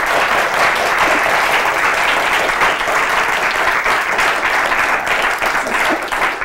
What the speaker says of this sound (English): I purposely do this to get lots of applause